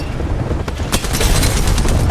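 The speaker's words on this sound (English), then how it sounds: "Watch the grenades." Grenade explosions in the Apex Legends battle royale, several loud booming blasts and crackling bursts layered over continuous gunfire and game noise, dense and close.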